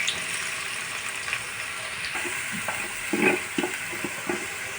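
Noodles and their ingredients are stirred together in a pan with a soft sizzle, the utensil tapping and scraping in a loose, irregular rhythm up close.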